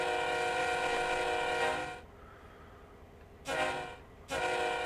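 A diesel locomotive horn in Train Sim World 2 on the Horseshoe Curve blares loud and sustained, cuts off, then sounds two more short blasts over a low rumbling engine.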